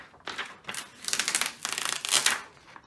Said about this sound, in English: all you have to do is basically peel the backing